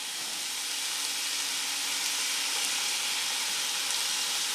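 Steady, loud sizzling of hamburger and vegetables frying in a hot pan, a continuous bright hiss with faint crackles and no talking.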